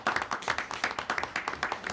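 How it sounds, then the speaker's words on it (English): Scattered hand clapping from a small audience at a Gaithersburg Mayor and Council meeting, a fairly quiet, steady patter of claps from a few people in the room. "That deserves a round of applause"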